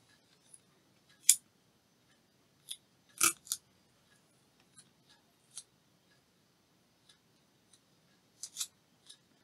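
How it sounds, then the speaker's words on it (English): Scissors snip the edge of paper to trim a pocket for a craft page, giving a dozen or so sharp, separate cuts spaced irregularly and close by, with quiet gaps between them. "trim the edge for the pocket first before you put it on the page"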